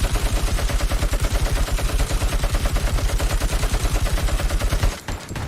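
Sustained rapid automatic gunfire from the video game RoboCop: Rogue City rattles in a dense, loud, even rhythm for about five seconds, then cuts off abruptly, with no talking.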